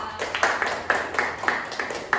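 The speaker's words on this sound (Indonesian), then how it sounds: "Beri tepuk tangan buat Mbak Miftah" Audience clapping for a speaker at an indoor talk or workshop, sounding as a thin, sparse scatter of claps with regular rhythmic pulses, moderately near and fairly quiet.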